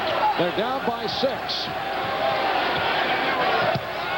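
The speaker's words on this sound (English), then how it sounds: "And now the crowd trying to get the Knicks going." A basketball arena crowd at Madison Square Garden roars to rally the Knicks against the LA Clippers in a 1993 game, a broad continuous din beneath a commentator's voice, with sharp thuds near the start.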